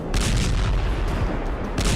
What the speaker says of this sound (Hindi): लड़ाकू जेट जब मिसाइल दागता है तो ईरान के मिलिट्री ठिकानों को एक धमाके में धूल में मिला दे रहा है।